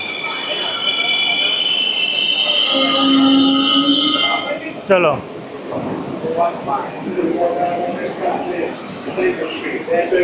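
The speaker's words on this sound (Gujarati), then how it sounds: "ન્યુયોર્કની સબવે ટ્રેન" A New York City subway train rumbles along with a high metallic whine and tonal hum, a sharp clank midway, then steady rolling noise with faint voices in the background.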